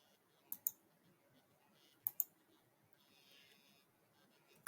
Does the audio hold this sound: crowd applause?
no